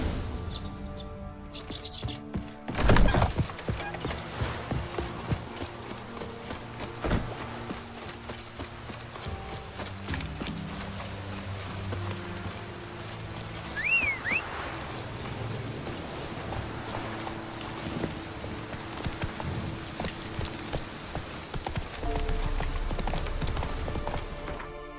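Roach the horse gallops in The Witcher 3: Wild Hunt, a long run of rhythmic hoofbeats close by with game ambience and a brief sharp impact early on.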